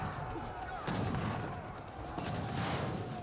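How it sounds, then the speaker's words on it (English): Heavy cannon artillery booming in the Age of Empires 3 video game, two or three muffled blasts at a moderate distance amid battle noise, with a faint voice in the background. "Heavy cannon still firing waves."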